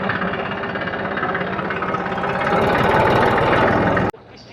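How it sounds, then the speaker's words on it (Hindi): Tractor engine rumbling at a cow shelter in Jaipur as it drives away to reload feed, a steady loud engine drone that grows slightly before cutting off abruptly near the end. "तो अब ये ट्रैक्टर वापस जा रहा है रीलोड करने के लिए"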